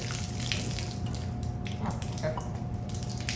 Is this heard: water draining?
yes